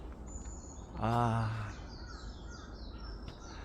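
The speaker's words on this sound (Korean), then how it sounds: "새소리 들어가면서" Outdoor morning birdsong: faint, high chirps repeat steadily through the background, while a person briefly lets out a short vocal sound partway through.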